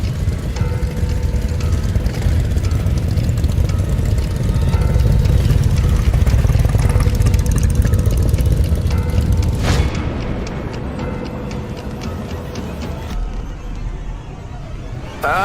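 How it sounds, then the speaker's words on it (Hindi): A motorcycle engine approaches a village road on a cold day in a cartoon, a loud, steady roaring rumble that fills the whole stretch and eases slightly toward the end. "मोटरसाइकिल की आवाज आई।"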